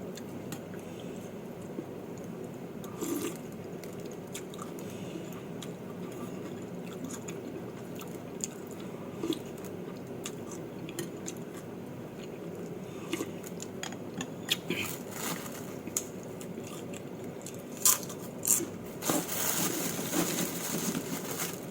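Crispy wontons being bitten and chewed up close, with faint, irregular crunches and soft chewing clicks over a quiet room background, growing a little busier toward the end.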